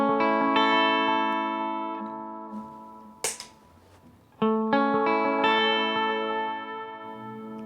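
Guitar chords ring out through a Hungry Robot Pedals "The Wash" pedal's lush, shimmering reverb and echoing delay, notes sustaining and layering, with a sharp scrape and a fresh strum partway through.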